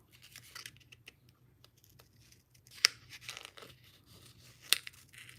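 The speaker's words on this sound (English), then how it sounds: "so now this, I'm just going to fussy cut around that bow" Scissors snip around a paper bow for a handmade card, producing quiet close crisp cuts and paper crinkles, with two sharper snips standing out among soft scattered rustling.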